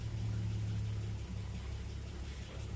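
An old Chevrolet truck with a six-cylinder engine and a three-speed column shift idles steadily nearby, giving a continuous low, even rumble with a smooth hum and no revving.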